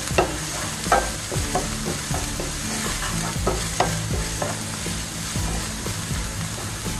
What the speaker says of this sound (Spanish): Vamos a citronar bien la cebolla y el chile